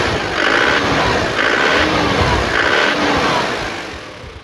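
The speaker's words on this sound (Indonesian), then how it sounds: "kita coba dengerin suara mesinnya ya" Close, loud running of a 2010 Isuzu Panther pickup's turbo diesel engine, its rough steady drone rising and falling in three short revving pulses before easing off.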